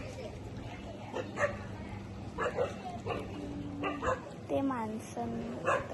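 Village dogs bark at a passing tempo, a small goods vehicle: several sharp, mid-distance barks and yelps come in scattered bursts, with a couple of whining howls near the end, under brief talk.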